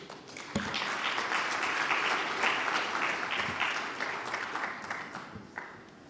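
A conference audience applauds steadily for several seconds to welcome a speaker at an ADIA Lab healthcare technology talk, the clapping dense and even before tapering off near the end.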